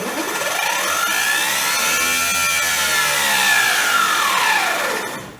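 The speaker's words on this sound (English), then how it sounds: "that was the motor sounding awesome" Electric drive motor of a rebuilt 2008 EZGO RXV golf cart on its first test under the accelerator, a loud close whine that rises in pitch, holds steady, then falls away as it winds down.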